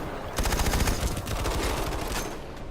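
Very rapid automatic gunfire from a fast-firing video game weapon, a dense loud stream of shots running almost the whole time with no talking.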